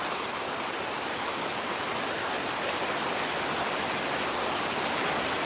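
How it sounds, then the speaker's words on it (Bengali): Heavy rain pours outdoors at Gabtoli cattle market, a dense, steady, loud hiss with no breaks and no talking. "বাহিরে প্রচুর বৃষ্টি"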